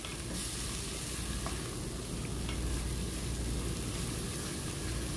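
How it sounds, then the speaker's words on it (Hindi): Chicken pieces for a ghee roast fry in a pan, producing a thick, steady sizzle with faint stirring underneath, constant from start to finish and without speech. "थोड़ा सा भूनेंगे इसको।"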